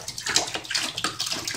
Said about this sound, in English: I'm just filling my electrolysis tank 1 gallon at a time and marking where that gallon is.